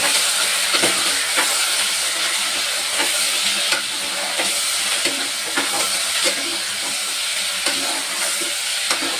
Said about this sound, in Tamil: இதை நம்ம நல்லா வதக்கிக்கலாம்.